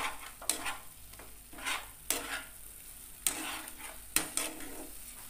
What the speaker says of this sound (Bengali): এবার খুব ভালো করে কষতে হবে।